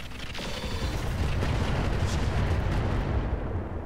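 A Deadfire weapon fires in a Roguetech BattleTech mech battle, a dense, loud, rumbling barrage that fills nearly four seconds with booming low-end blasts and no talk.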